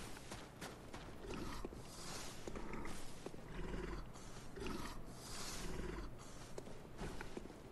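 A creature in the Bloodborne video game gives low, rough grunting roars in repeated bursts over a constant background of game ambience, faint and with no talking.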